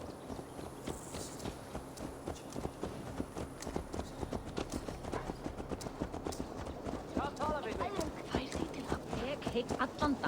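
Hooves clip-clop in a steady walking rhythm from a horse in the video game Assassin's Creed Valhalla, close and continuous beneath game dialogue.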